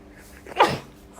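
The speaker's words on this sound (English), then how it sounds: "I'm about to sneeze." A single sharp human sneeze bursts out loud and close, a short explosive burst with a breathy tail, alone without talk.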